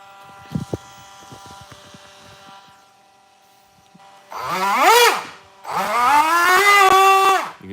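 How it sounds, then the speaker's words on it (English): A faulty Traxxas Sledge RC car motor, its pinion not turning, lets out two loud, rising whirring revs after a few quiet clicks and a stretch of near silence. "the pinion is not moving, and it's making a lot of noise"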